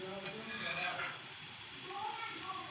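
A methi pooda, a fenugreek fritter pancake, fries on its second side in a pan, giving a soft, steady sizzle with faint tonal background sounds and no clear voice.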